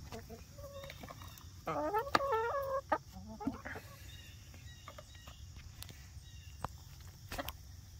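Chickens clucking and squawking in a short burst of rising, warbling calls, then scattered softer clucks and rustling movement close by, with no talk.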